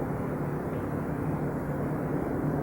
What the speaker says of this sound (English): They're calling time because there's an airplane coming over.